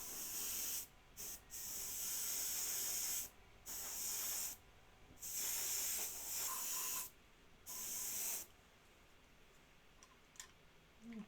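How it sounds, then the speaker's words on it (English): A new airbrush compressor runs with a low steady hum beneath repeated bursts of airbrush spray hiss, each lasting one to two seconds and separated by short gaps, with a faint click near the end and no voices. "What do you think of the new compressor? It's running now."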